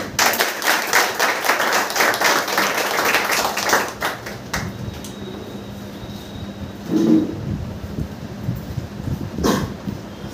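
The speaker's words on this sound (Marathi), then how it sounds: "अजून जोरदार टाळ्या झाला पाहिजे अक्कलवार सोसायटी" Audience clapping at an Akkalwar Society event honouring Parishram Academy health workers, a dense burst of hand claps that thins out after a few seconds into scattered, quieter claps and background murmur.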